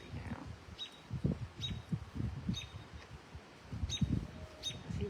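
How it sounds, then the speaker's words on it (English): A red bird sings outdoors on an evening, giving brief high chirps repeated every second or so at a moderate distance, under low rustling and murmuring sounds. "That sounds like the red bird that was here."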